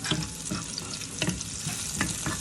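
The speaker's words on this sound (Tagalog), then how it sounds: "Gigisa natin yung yung beef stir fry. Ayan o. Sarap amuyin ang bawang." Garlic sautés in a hot pan for a beef stir fry, with a close, constant sizzle and the scrape of stirring breaking through at intervals.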